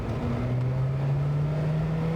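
A Renault 5 Gordini Turbo pulls at low revs while driving, giving a steady, droning engine note with a slowly rising hum, close and fairly loud, with no voices.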